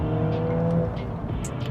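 A Volkswagen Golf R Performance Pack with its turbocharged 2-litre engine and 7-speed DSG pulls hard on boost, a loud, close engine drone and whir rising briefly from inside the car.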